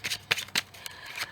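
Tarot cards being shuffled during a card reading, a few quick riffling bursts of card stock, close and fairly clear, with short pauses between them and no talking.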